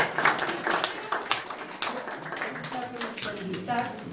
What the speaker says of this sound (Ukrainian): Бурні аплодисменты